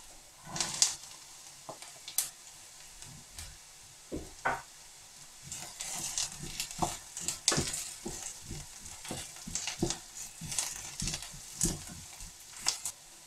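Carrots frying with softened onion in a pan, sizzling steadily while being stirred, with frequent scraping and clattering strokes of a utensil, moderately close, no voices.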